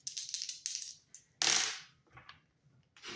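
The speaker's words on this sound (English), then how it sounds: "rolling the dice to see what I need to shuffle the deck to" Dice rolling on a hard surface: a quick series of close, sharp clicks and rattles, then a louder tumbling clatter that fades, followed by a few lighter taps, with no voices.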